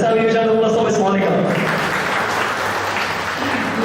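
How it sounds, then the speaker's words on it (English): Audience applause at a school golden jubilee closing ceremony, honouring a former class teacher; dense, steady clapping fills the whole stretch, with some voices and cheering mixed in at the start. "Let's have you shout applause for Miss Monica."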